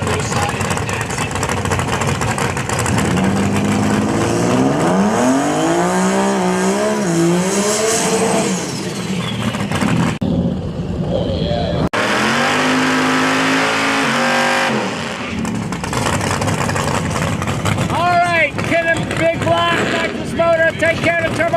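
A turbocharged 6-cylinder drag race car accelerates hard at a heads-up shootout race, loud rising engine sweeps with gear changes, a brief lull, then more revving, with an announcer talking over the roar.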